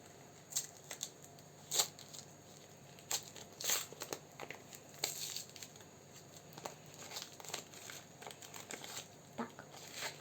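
Hands open a small pink paper surprise packet from a handmade paper-toy collection, giving quiet, close crinkling, rustling and tearing in scattered bursts with soft pauses between.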